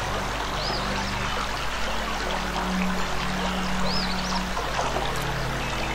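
Steady flowing water in the video game Anna, a continuous even wash of stream-like pouring with faint bird chirps above it, no voices.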